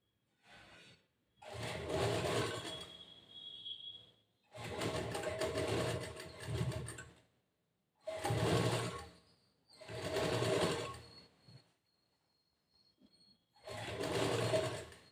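A sewing machine stitches a blouse in bursts, whirring loudly for a couple of seconds at a time with short quiet pauses between runs, close up and with no talking.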